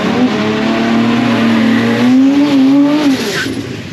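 A racecar driven on a public street drones loudly with a steady engine note that rises gradually as it accelerates, then drops off near the end.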